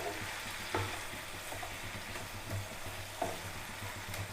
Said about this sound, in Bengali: এরকমভাবে আমি আরেকটু কষে নেবো মশলাটাকে